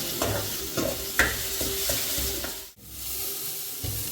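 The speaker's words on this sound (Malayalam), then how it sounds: "ഉപ്പൊക്കെ ഇട്ട് വീണ്ടും ഇളക്കി കൊടുക്കാം." A broccoli cutlet mixture is stirred and sautéed in a pan, a continuous close sizzle broken by regular scraping strokes of a spoon, then a brief pause before the frying noise resumes.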